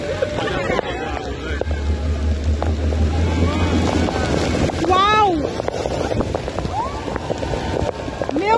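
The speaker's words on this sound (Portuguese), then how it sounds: "Olha a força da água de uma hora para outra" A sudden rush of floodwater at Capitólio rages as a loud, continuous roar through the whole stretch, while excited voices shout and talk over it.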